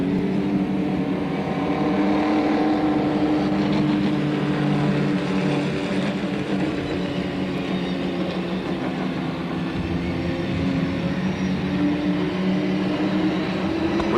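Late model stock cars racing at Slinger Speedway in 1985 make a dense, continuous engine roar that stays loud and steady throughout, with no voices over it.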